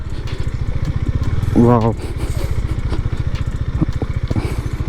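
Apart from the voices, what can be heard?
motorcycle engine idling while parked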